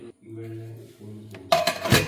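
A container of cut ginger is closed in a home kitchen, giving a loud burst of clattering and clinking at the end, after a stretch of quieter tonal sound.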